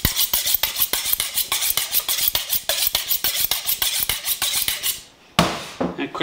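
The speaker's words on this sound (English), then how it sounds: "And a quick pass on steel." A kitchen knife is drawn rapidly along a sharpening steel before cutting all-purpose potatoes, giving a dense run of bright metallic scrapes in quick steady rhythm, close and loud, then a brief pause and a final pass.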